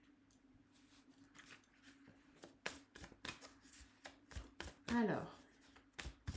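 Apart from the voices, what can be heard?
shuffling tarot cards for a reading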